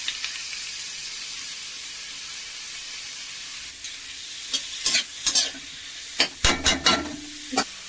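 Onions frying in a pan until reddish-brown, with mushrooms about to join them: a steady broadband sizzle throughout, broken in the second half by several sharp scraping stir strokes and clatters, close and moderately loud, no voices.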